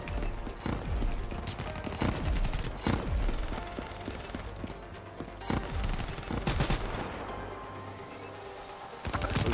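In a Call of Duty Black Ops 3 multiplayer match, guns fire in sharp, loud bursts and single cracks, mixed with electronic beeping and other game effects, in busy stretches broken by short lulls.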